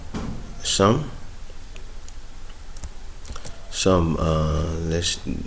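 Clicking keystrokes from a computer keyboard while entering an Excel formula, light and fairly close, running steadily through the clip and partly masked when a voice talks over it.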